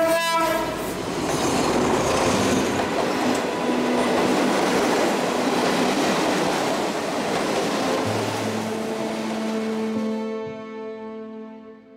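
A local commuter train in Bangkok, Thailand rumbles steadily along the rails, clattering wheels and a long horn blast sounding near, the noise fading away at the end.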